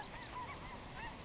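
Pintail ducks flying over South Louisiana, faint honking and quacking calls scattered through a steady outdoor background, distant and brief.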